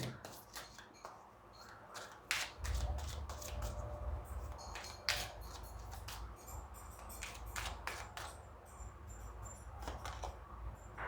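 Prism Oracle tarot cards being shuffled make quick papery riffles and soft taps in irregular bursts, faint and close, with a low background murmur.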